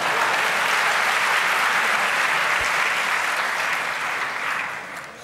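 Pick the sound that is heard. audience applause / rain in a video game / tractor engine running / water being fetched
audience applause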